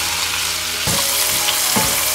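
Onions, celery and garlic fry in oil and butter in a pan for mushroom risotto, a loud steady sizzle broken by two dull stirring knocks.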